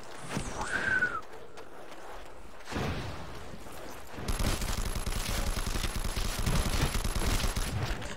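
Game gunfire in a Call of Duty zombies mode played in Garry's Mod, starting with scattered shots and a whooshing effect, then a steady rapid automatic burst that runs loud through the last few seconds.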